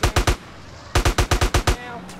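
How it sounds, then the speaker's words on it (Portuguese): AK-47 fire in the video game GTA San Andreas: a short burst of three loud, close shots, a brief pause, then a longer rapid burst of about seven shots with a faint tail. "Vou até usar a AK-47."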